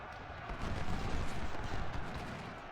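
Dense, continuous battlefield gunfire from the Civil War strategy game Ultimate General: Civil War, a steady rolling crackle of massed musket and cannon shots with no voices over it.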